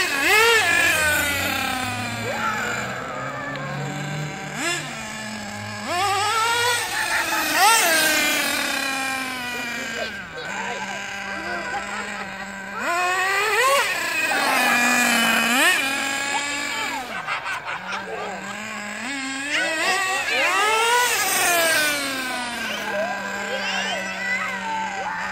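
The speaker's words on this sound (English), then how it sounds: "This is the second time I've driven a nitro car" Duratrax Raze 1:8 scale nitro RC buggy engine running, a high buzzing whine that swoops up and down in repeated revs, loud and close, with occasional talk.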